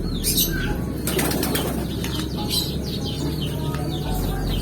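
Busy flapping of many birds' wings, steady and close, with scattered chirps and a low hum throughout.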